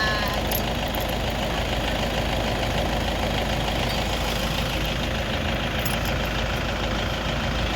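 Boat engine idling steadily during a crossing of the Mekong River, a continuous low rumble with broadband noise and no pauses, fairly loud and close throughout.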